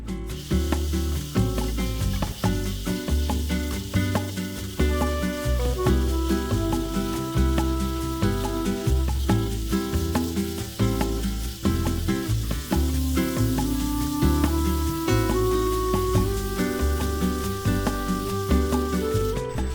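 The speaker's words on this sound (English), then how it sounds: "Got another grain of sandpaper here." Sandpaper pressed against a small turned wooden display plinth spinning on a lathe, a steady close whirring hum with continuous abrasive rasping and shifting tonal drone throughout.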